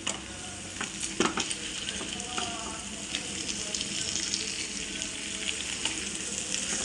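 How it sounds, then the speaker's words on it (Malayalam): Karimeen, pearl spot fish caught from a riverside, frying in a pan and being gently turned, a steady close sizzle with scattered scraping and clinking of the utensil, no talking. "ഈ കരിമീൻ പൊടിയാതെ വേണം നമുക്ക് ഇത് ഇളക്കിയെടുക്കാനായിട്ട്"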